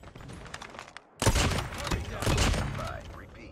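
Bolt-action rifle fire in COD Mobile: a sudden loud burst cracks in after a brief lull, followed by sustained dense gunfire and clatter, with a voice talking faintly underneath.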